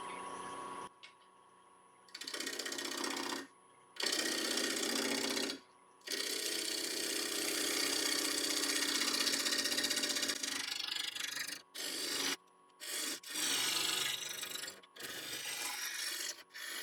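Bowl turning on a wood lathe at 900 RPM with a 5/8 inch bowl gouge, a close scraping, rasping cut that comes in repeated bursts a few seconds long, broken by short silent pauses as the tool lifts away.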